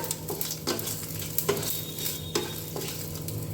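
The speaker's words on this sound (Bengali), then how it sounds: "তেজপাতাটা আমি ছিঁড়ে দিয়ে দিলাম, গোটা জিরে, গোটা গরম মশলা এটা দিয়ে দিলাম।" Bay leaf, whole cumin and whole garam masala stirred in hot oil, with a steady sizzle broken by several scraping strokes of a spoon against the pan, close and fairly loud, no talking.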